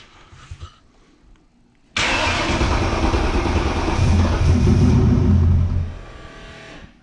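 A turbocharged car engine cranks briefly, then catches and fires up into a loud, steady running roar that holds for several seconds before dropping back toward idle.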